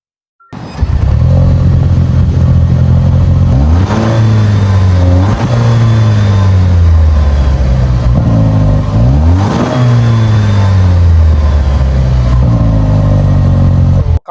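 A 2026 Toyota Land Cruiser hybrid engine turning over and running, very loud and close, with a steady idle broken by several rising revs that sweep up and settle back down.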